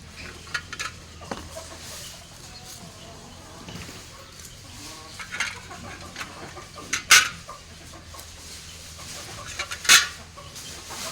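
A hen clucks in short, scattered bursts amid quiet farmyard noise, with two sharp clicks standing out.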